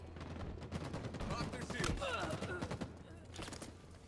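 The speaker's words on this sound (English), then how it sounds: "Oh no, it's a battle rifle." Battle rifle fire in Halo Infinite multiplayer: rapid bursts of shots mixed with other combat noise, moderately loud and close, with someone talking over it.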